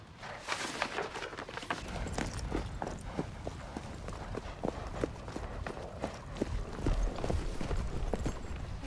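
A horse clip-clops along at a steady walking pace, its hooves giving even, fairly close knocks over a low outdoor rumble, with no voices.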